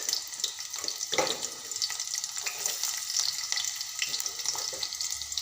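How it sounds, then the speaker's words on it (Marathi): Chopped onion tipped into hot oil in a heated pot for a cowpea (chawli) vegetable dish, giving a steady close sizzling hiss with a brief louder burst near the start and faint scraping throughout. "तेल तापलेलं आहे त्यामध्ये मी कांदा सोडणार आहे"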